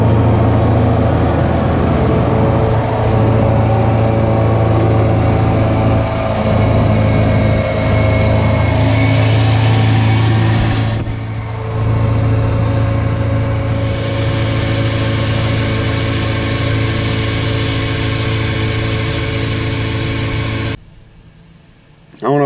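A roughly 50-year-old International Harvester 1466 tractor engine runs loud and steady with a deep droning idle while cutting hay, dipping briefly midway and cutting off near the end.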